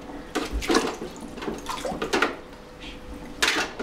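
Kitchen tap running while dishes are washed in a sink, with bursts of splashing water and light clattering of dishes coming and going in uneven pulses, fairly close.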